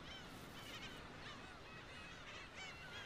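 Black-tailed gulls calling near fledglings on a small island, a steady chorus of harsh, honking cries from several birds, fairly distant and continuous over breezy outdoor noise.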